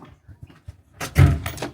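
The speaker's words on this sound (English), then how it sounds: "Shut that door." A door is shut in the warm front room of a barn: a loud, close knock and rattle after a second of quiet low rumbling, with no talk.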